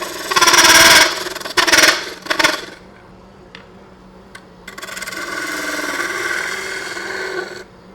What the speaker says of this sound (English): I'm going to switch over to this carbide tool, which has a cupped cutter on it